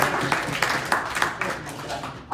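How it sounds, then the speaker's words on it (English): An audience claps in a short burst of applause, a dense patter of hands at moderate volume lasting a couple of seconds, with a little voice mixed in. "So everybody give yourselves a round of applause."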